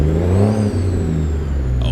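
A heavy diesel truck engine in a video game rumbles and revs, its pitch rising and falling, loud and close with a steady low drone underneath.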